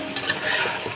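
Desi country chicken kosha fries in a pan with the oil separated out, a dense, close sizzle under brief scraping stirs for about a second.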